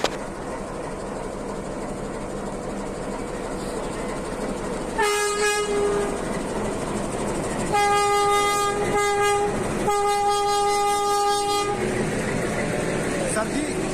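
The last metre-gauge train at Nepalganj pulls out of the station, sounding its horn in several loud blasts over a steady rumble, with people talking nearby.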